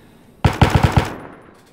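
Burst of gunfire in the DayZ video game: five sharp, closely spaced shots in quick rhythm, loud and near, then fading out over a short tail with no talk.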